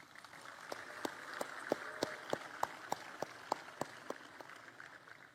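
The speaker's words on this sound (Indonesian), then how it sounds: "Tepuk tangan dong." Sparse, scattered clapping from an audience at an Indonesian education day event, a handful of distinct sharp claps spaced irregularly over a few seconds, faint and distant against low room noise.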